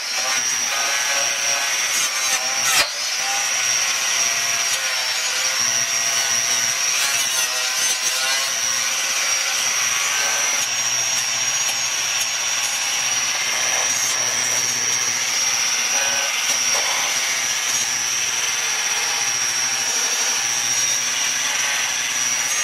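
Sandblasting removes leftover weld beads from a metal part, producing a loud, steady hiss with a high whine running unbroken for over twenty seconds and one brief sharp knock early on.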